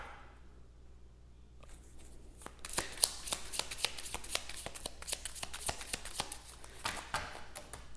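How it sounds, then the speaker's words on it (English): After a quiet moment, a deck of cards is shuffled up close, a fast crisp riffle of flicking cards lasting several seconds. "I'm gonna give it one more shuffle."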